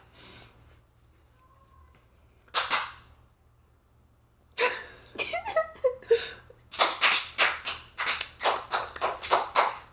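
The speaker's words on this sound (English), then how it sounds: "We have a handshake." A rapid sequence of sharp hand slaps and claps, building into a rhythmic patter of a dozen quick smacks, close and crisp, after a brief opening slap.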